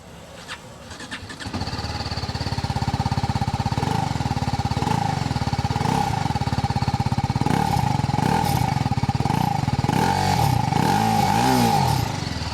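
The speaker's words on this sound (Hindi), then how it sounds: "इंजन की आवाज़ सुनते हैं।" A 2026 TVS Apache RR 310 motorcycle engine cranks and catches, then idles and revs in a rough, steady putter with occasional throttle blips, close and loud.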